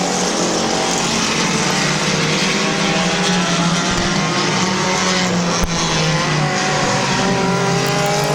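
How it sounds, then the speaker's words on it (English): Race cars roar around the Midvale Speedway oval in a loud, continuous engine drone with shifting pitches as cars battle closely for the lead, with no talk audible. "The 8 car of Orr and the 5 car of McCartney going at it for the lead."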